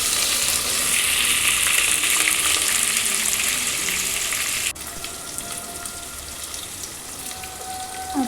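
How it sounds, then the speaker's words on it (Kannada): Onions stir-frying in a pan for pulao give a loud, dense, continuous sizzle up close. It drops abruptly to a softer crackle midway as the mixing goes on. "ಇನ್ನೊಂದು ಎಲ್ಲದನ್ನು ಮಿಕ್ಸ್ ಮಾಡಿಕೊಂಡು ಚೆನ್ನಾಗಿ ಫ್ರೈ ಮಾಡ್ತಿದ್ದೀನಿ"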